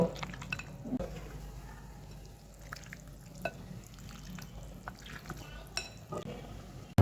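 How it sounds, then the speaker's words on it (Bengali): Country chicken being mixed by hand with spices, salt and a little oil for a marinade: quiet, wet squelching and sloshing with scattered soft taps, close and low in volume. No one speaks. "এখন আমি এটাকে মশলার সঙ্গে ভালোভাবে মাখিয়ে পনেরো থেকে বিশ মিনিট মেরিনেট করে রেখে দেব"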